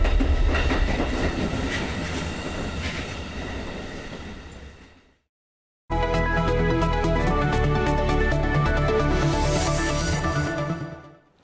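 A train rolls through a Baltic railway station with steady rumble and rhythmic clickety-clack, loud and close, cut by a short gap and then continuing with rising metallic wheel squeal before fading.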